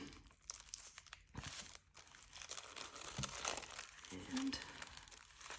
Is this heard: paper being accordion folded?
yes